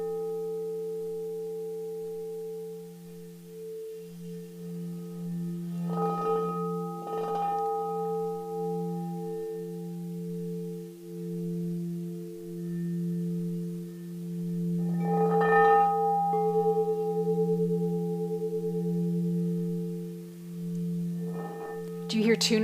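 Two crystal singing bowls tuned to F, one an octave below the other, sound together as a steady, pure sustained hum with a gentle beating shimmer. Faint handling and rubbing noises rise in a few spots over the long ringing tone.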